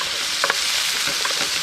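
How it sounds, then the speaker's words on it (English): Okra, carrot and potato sauté in a pot by a river, giving a steady sizzle with a few soft stirring scrapes, close and alone. "I'm just basically saute up in them a little bit for 2 minutes"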